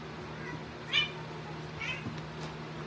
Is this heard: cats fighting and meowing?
yes